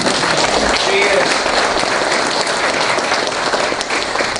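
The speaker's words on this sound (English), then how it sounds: "I want to please give a big round of applause to Senator Jennifer Martino-Tarrant." Loud, sustained applause from a crowd at a veterans breakfast greets a state senator, a thick unbroken roar of many hands clapping with scattered voices mixed in.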